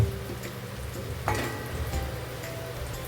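Ground turmeric, red chilli, coriander and cumin sizzle in hot oil in a pan for a masala egg curry, a steady soft frying hiss with the gentle scrape of stirring, close and moderately loud, with no voices.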